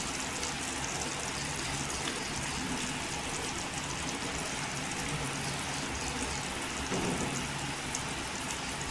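A pot of spicy bangda (mackerel) fish curry masala with turmeric-coated ginger-garlic paste bubbles and simmers on a stove, giving a steady, dense crackling hiss that runs throughout with no talking.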